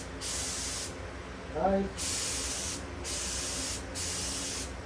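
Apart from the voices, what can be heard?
paint spray gun test spray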